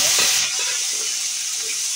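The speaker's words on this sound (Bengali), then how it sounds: "দেখুন এখানে আমি আলু আর ফুলকপি নিয়ে এসেছি, এগুলো আমি ভেজে নেব।" Potato and cauliflower pieces sizzle steadily in hot oil in a kadai, a continuous bright frying hiss with a louder burst at the start, no voices present.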